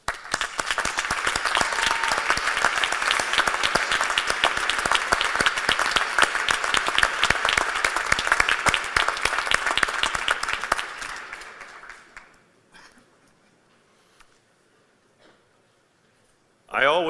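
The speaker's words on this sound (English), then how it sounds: "I invite the members of our hardworking faculty to stand and be" A commencement audience applauds the faculty with loud, dense clapping from a large crowd for about twelve seconds before it fades into near silence, broken by a brief voice at the very end.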